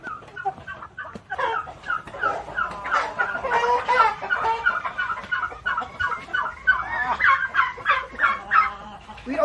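A flock of hens on a poultry farm clucks and squawks in dense, overlapping bursts, loud and close, continuing without pause.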